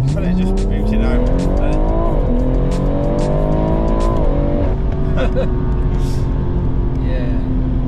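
A 4WD-swapped BMW M140i with a ZF gearbox accelerates hard, its engine rising loud through the revs with an upshift before settling, heard from inside the car while people talk over it.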